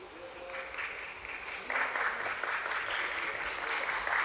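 An audience at a BSE listing ceremony for Bondada Engineering claps steadily, the applause swelling louder partway through into a full, sustained round with a faint voice underneath.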